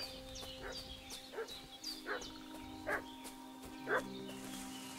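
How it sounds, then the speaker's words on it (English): A dog barks repeatedly in Kingdom Come: Deliverance, several sharp mid-distance barks spaced about a second apart over a steady ambient hum, with no talk. "What's that dog making such a fuss about?"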